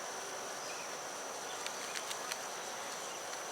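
Honeybees hum around an open hive holding capped queen cells, a steady, soft outdoor buzz with a few brief clicks and rustles near the middle.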